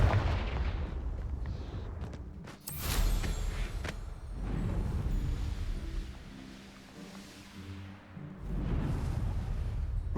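Fiery Confringo spell blasts boom in Hogwarts Legacy, heavy low rumbling explosions with a sharp crackling burst near the middle, rolling on continuously under a loud, dense game soundscape.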